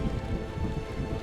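Steady rain falls as a dense, continuous hiss and patter on surfaces, close and fairly loud, with a low rumble underneath, on a rainy day of travel in northeastern Thailand between Udon Thani and Khon Kaen.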